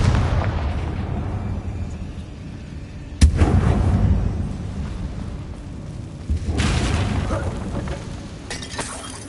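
Confringo spell explosions in the Hogwarts Legacy video game, heavy booming blasts with a sharp crack near the middle and another surge later, rumbling over a continuous low game background.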